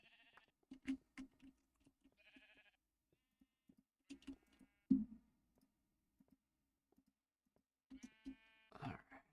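Blocky sheep bleating in the Minecraft InfDev world, a few short calls spread across the stretch between clicky in-game ticks, moderately near and otherwise quiet.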